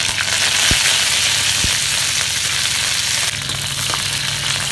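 Mustard seeds sizzling in hot oil in a pan for tomato chutney, a steady loud hiss and crackle throughout with a few sharp pops.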